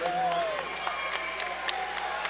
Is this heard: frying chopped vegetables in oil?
no